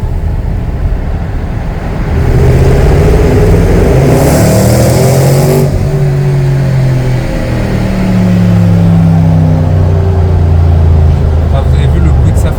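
Range Rover SVR engine revving inside a tunnel, a loud, echoing roar that climbs sharply and holds, its reverberating drone filling the space, with a voice briefly heard.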